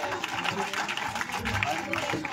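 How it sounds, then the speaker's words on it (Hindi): A crowd at an outdoor BJP political rally in Rajasthan claps continuously, with steady dense applause mixed with voices and a loudspeaker-style announcer talking over it. "तालियां बजाते रहिए"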